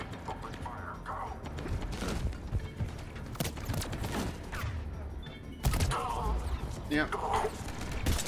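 Mass Effect 3 firefight with bursts of rapid gunfire and mechanical clatter from weapons, punctuated by sharper shots, mixed with brief voices speaking.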